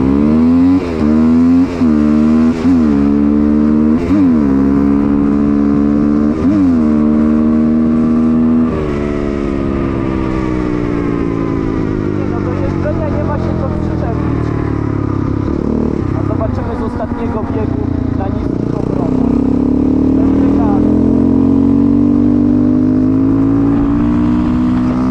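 A fuel-injected KTM motorcycle engine runs loud and close for a test ride after a fuel pump fix, with rising and falling revs early on, then a steadier drone and further throttle swells.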